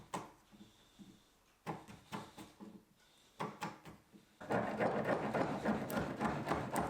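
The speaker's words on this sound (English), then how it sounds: "And I can start cleaning it up with a chisel." Chisel work cleaning up joints on a large wooden driveway gate: a series of sharp, irregular knocks and scrapes, each followed by a short pause, then a stretch of denser, continuous rasping paring at close range with no voices.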